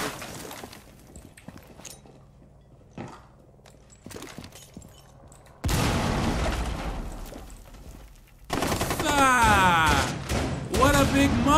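In the video game Rainbow Six Siege, scattered distant shots give way to a loud burst of grenade explosions and rapid gunfire, dense and close, with no talk heard.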